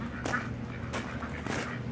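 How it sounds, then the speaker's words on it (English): Several ducks quack in short bursts roughly every half second, close and fairly loud, over a steady low outdoor hum beside a garage with a missing door. "Looks like we got some nice ducks here too."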